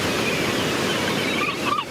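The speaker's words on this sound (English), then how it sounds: "enjoy the soothing sound of the crashing waves" Ocean waves crashing and washing ashore at Torrey Pines beach, a steady broad roar of surf close by with a faint wind rush and no voices.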